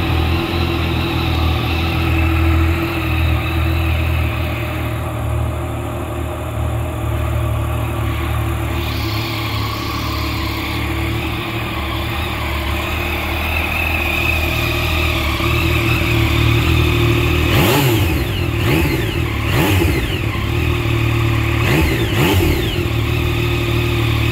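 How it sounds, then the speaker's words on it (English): A 2019 Yamaha Tracer 900 motorcycle engine running steadily and close, with a brief hard rise in the revs toward the end, with no talking. "Let's go ahead and fire it up."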